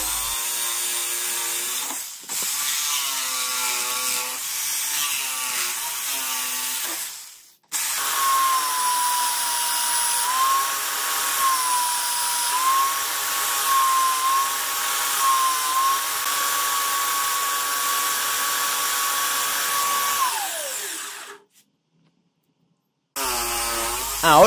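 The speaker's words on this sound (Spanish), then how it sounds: "Les recortaré con la caladora y les daré forma circular en la lijadora de banda." A jigsaw buzzes steadily through wood, pauses briefly, then a belt sander whines in a long continuous run shaping the wood before stopping, with a short burst at the end.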